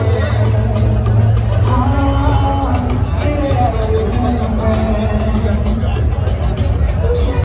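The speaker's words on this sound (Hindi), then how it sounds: "मेहमानों का आगमन शुरू हो चुका है, अभी बहुत कम भीड़ है लेकिन धीरे धीरे धीरे लोग आ रहे हैं" Guests arrive at a sister's wedding, and a small crowd's voices blend into a steady murmur of chatter with a tonal background hum running beneath the babble.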